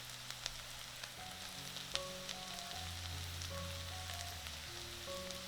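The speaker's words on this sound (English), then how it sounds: "adding that wonderfully fragrant garlic paste right into the pan with our gently softening onions, giving it all a nice, thorough stir" Garlic paste and onions sizzle softly in a frying pan, a faint, steady crackling hiss with small pops, heard alone under quiet background music.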